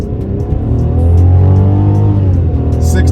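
A 2019 Mercedes-Benz C300 coupe with a four-cylinder engine accelerates hard, its revs climbing loudly and steadily toward a 6,000 RPM redline, heard close from inside the cabin.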